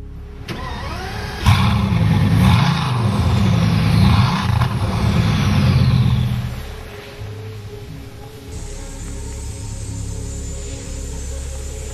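A 2008 Bugatti Veyron accelerating hard, its engine roaring loud and close with rising revs and gear changes, then easing off to a quieter hum.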